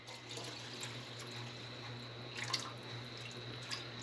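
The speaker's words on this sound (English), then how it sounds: "And then add in the rest of your water." Water trickles and drips into a pot of Cuban-style chicken and rice, a soft, steady splashing with a low hum beneath and a few brighter drops standing out, fairly quiet and without talking.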